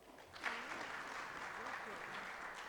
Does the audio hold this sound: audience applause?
yes